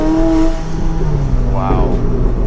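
Supercar engine pulling hard under heavy acceleration, a loud sustained roar with a rising tone near the end, heard from inside the car with a voice speaking over it.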